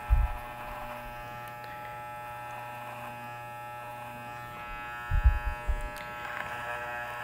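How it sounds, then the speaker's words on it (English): A Leonardo electric hair clipper runs with a steady, close motor buzz while cutting hair over a comb, with a couple of brief louder bumps of handling near the start and middle. "place a clipper over your comb."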